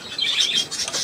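Pet budgerigar chirping in a steady stream of quick, bright warbling tweets, close and fairly loud, with no talking.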